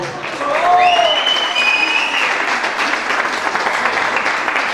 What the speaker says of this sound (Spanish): porfa, aplauso para él